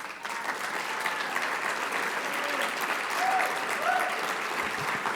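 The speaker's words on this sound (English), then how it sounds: "can we give you a round of applause?" Audience at a national student leadership academy applauds the board of directors, a full, steady patter of many clapping hands with a few faint cheers and whistles rising over it, sustained throughout.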